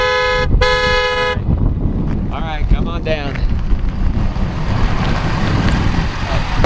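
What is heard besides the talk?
trucks and cars passing fast on a road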